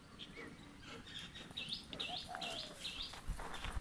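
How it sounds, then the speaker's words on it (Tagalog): Birds chirp and tweet outdoors on a morning, bright repeated calls at a moderate distance over a steady background hiss. "There's so many birds."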